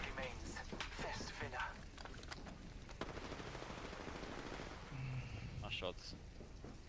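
Rapid video game gunfire in Apex Legends, dense bursts of shots and impacts running through the whole stretch, fairly loud and busy, with a player's voice talking over parts of it.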